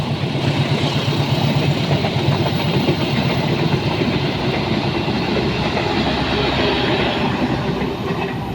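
Tawang Jaya Premium passenger train heading to Pasar Senen rolls slowly past from the right at night in Tambun, West Java, a close, loud, continuous rumble with wheel clatter that holds steady throughout.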